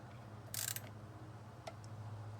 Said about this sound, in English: I like to snug them in with the wrench before using the torque wrench